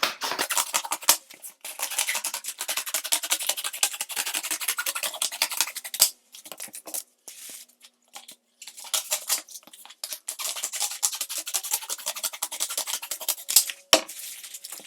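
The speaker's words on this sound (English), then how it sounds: "I'm going to cut strips like so" Strips being cut for a stained glass piece: a close, dense scraping and cutting rasp runs nearly continuously, broken by a few brief pauses and one sharp click.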